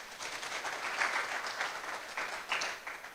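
An audience at an inaugural lecture breaks into sustained, even applause, a dense wash of clapping hands that carries on throughout.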